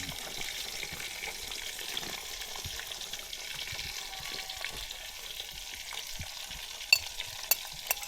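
Vegetables frying in a pan give a steady, close sizzle with light stirring, and a few sharp clinks come near the end. No one speaks.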